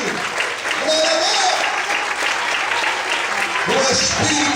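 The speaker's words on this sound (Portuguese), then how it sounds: "aplauda e exalte a Ele bem forte" A church congregation applauds loudly and steadily through a worship service, with voices and shouts rising over the dense clapping.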